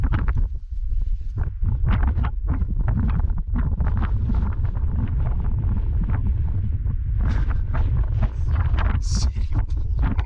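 Loud, steady wind gusts buffet the microphone on a breezy mountain trail on the way up Arapaho Glacier, a continuous low rumble with brief lulls and no voices.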